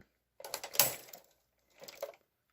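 A KH940 knitting machine carriage is pushed across the needle bed, giving two short bursts of clattering mechanical clicks and rattles with a quiet pause between them, faint and close.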